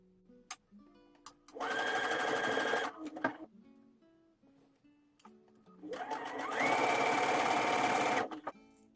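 A domestic sewing machine stitches a sleeve into high-elastane stretch knit fabric in two steady bursts, a brief one and a longer run, with quiet pauses and small handling clicks between them.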